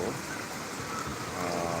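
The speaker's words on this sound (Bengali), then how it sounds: "কালবৈশাখী ঝড় ছিল এখন বৃষ্টি হচ্ছে" Steady rain falling after a nor'wester storm in Dhaka, a dense broadband hiss of drops on surfaces, continuous and fairly loud throughout with no voices.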